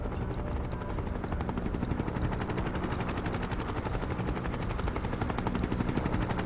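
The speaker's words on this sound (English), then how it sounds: "Gotta love that the chopper can't see you walking around the roofs" Helicopter in the video game Final Fantasy VII Rebirth: a loud, constant rapid rotor chop with a dense roaring drone throughout, no talk.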